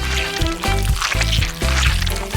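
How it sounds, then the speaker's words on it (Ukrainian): A chocolate-paste mixture pours into a mold in a kitchen, a short wet gurgling stream that comes in a few uneven glugs and pauses, fairly close and moderately quiet. "Заливаємо форму"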